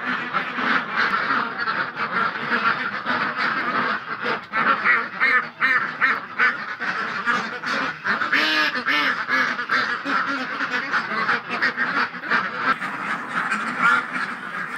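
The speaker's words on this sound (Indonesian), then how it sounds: "Ya namanya juga bebek ya." A large flock of hybrid ducks at a breeding farm quacks loudly and continuously, a dense, noisy chorus close by with honking calls mixed in.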